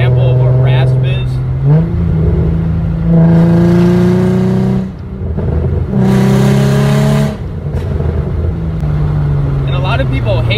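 Infiniti G35 exhaust revving repeatedly, rising and falling with a raspy, buzzy tone across several throttle blips, loud and close, with a voice speaking briefly in places.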